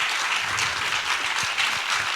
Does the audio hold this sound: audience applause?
yes